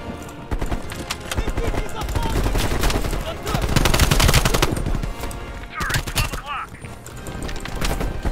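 Turret gunfire in the shooter game Call of Duty: Black Ops Cold War, loud dense bursts of automatic fire with heavy thumps running through most of the stretch amid other game noise.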